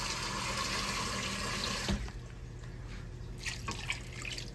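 Water is poured into a cooking pot before beef stock is added. A steady, loud pouring stream runs for about two seconds, then cuts off, leaving soft drips and trickles.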